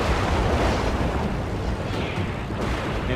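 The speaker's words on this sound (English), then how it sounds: "The enemy cruiser is firing shells out in front of the retreating planes" Heavy, continuous booming blasts of an enemy cruiser's shells roll together into a dense wall of rumbling explosions in a video game, loud and close, with no voices.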